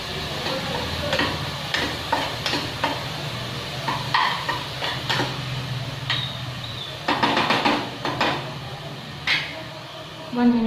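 Chopped fenugreek leaves are stirred and cooked in a pan, with repeated scraping strokes over a steady sizzle, close and fairly loud, while a voice speaks at times.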